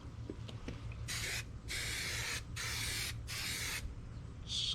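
Headliner adhesive sprayed from an aerosol can as a fine mist while redoing the headliner of a 1992 Chevy GMT400 truck, four close hissing bursts of about a second each with short pauses, then a brief fifth spurt.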